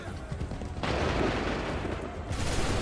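Musket volley firing in Assassin's Creed 3, a dense crackling fusillade that erupts abruptly and rolls on as a continuous wash of gunfire, swelling again near the end, with no talk over it.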